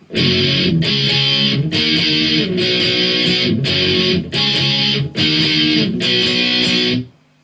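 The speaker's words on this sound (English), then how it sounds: "I'm just doing all down strokes here." Loud, distorted electric guitar power chords strummed with all down strokes in repeated heavy bursts, each held briefly before the next, ending in silence.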